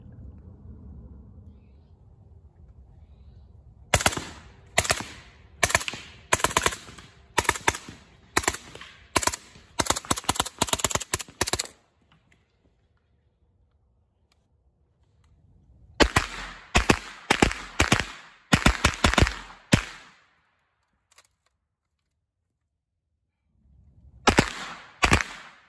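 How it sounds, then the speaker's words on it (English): A suppressed MP5 SBR with a Dead Air Wolfman suppressor fires through a binary trigger using supersonic and subsonic rounds. Rapid close sharp cracks come in quick pairs and clusters, with a long quiet pause between strings and a short final string at the end. "You'll see and hear the difference on these supersonic and subsonic rounds."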